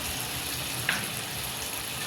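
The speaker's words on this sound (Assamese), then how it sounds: "মিনিটমান মছলাখিনি এনেকৈ ভাজিব লাগিব।" Onion and spices frying in oil in a wok (kadai), a steady close sizzle with one brief clink of a utensil.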